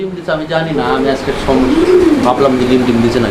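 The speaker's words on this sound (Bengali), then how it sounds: "আর এইটা রোমান গাল কবুতরের একটা জোড়া দর্শক বন্ধুরা দেখতেই পাচ্ছেন ব্ল্যাক রোমান গাল" A pair of black Roman gall pigeons sitting in a nesting pot on a farm coos in low, rolling calls, rising to one clear swelling coo partway through, with someone talking over them.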